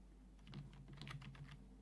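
Soft clicks of computer keys come as a quick, irregular burst of keyboard shortcuts being pressed, faint and close over a low steady hum, with no one talking.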